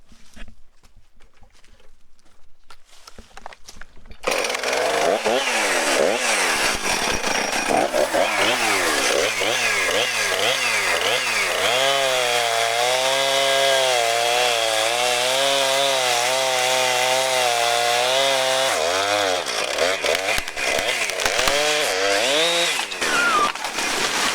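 Chainsaw making the back cut to fell a tree for firewood, loud and close, starting after a quiet moment and running steadily with rising and falling engine pitch as the bar works through the wood.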